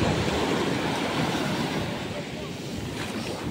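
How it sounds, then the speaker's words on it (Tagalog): Ocean surf at a surf spot in Puraran roars steadily as broad, continuous crashing wash, loud and close, with wind buffeting the microphone throughout. "Maganda din dito yung mga alon."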